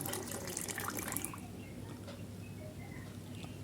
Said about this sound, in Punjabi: ਦੁੱਧ ਨੂੰ ਸਾਰਾ ਵਿੱਚ ਅਸੀਂ ਪਾ ਦੇਵਾਂਗੇ ਆਪਣਾ